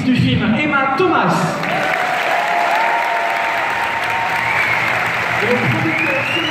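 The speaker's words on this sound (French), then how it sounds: "Je vais donc vous demander de réserver un tonnerre d'applaudissements à la productrice du film, Emma Thomas." Loud, sustained applause from a large audience at the Paris premiere of Dunkirk, continuous clapping filling the room with a few whistles, while a voice speaks over it.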